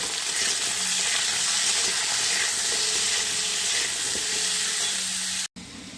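Potatoes and radish frying in oil with turmeric and salt, a loud steady sizzle and hiss filling the whole stretch before cutting off abruptly near the end.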